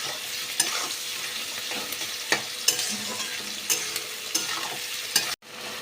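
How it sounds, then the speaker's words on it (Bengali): Chopped tomato frying in a pan, a close, continuous sizzle broken by regular scraping clicks of a spatula stirring, then an abrupt stop near the end. "টমেটো কুচি দিয়ে খুব ভালো করে আবারও আমি লাল লাল করে ভেজে নেব।"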